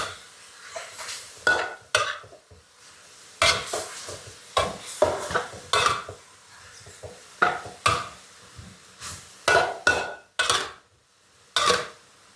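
Utensil scraping and clanking against a pan while stir-frying vegetables with pork, irregular bursts of stirring strokes at close range, no talk.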